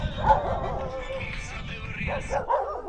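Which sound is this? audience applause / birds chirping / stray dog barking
stray dog barking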